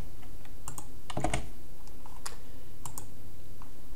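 Typing on a computer keyboard while entering login credentials, a few soft scattered keystrokes with one brief cluster of clicks over a steady faint background hiss, no voices.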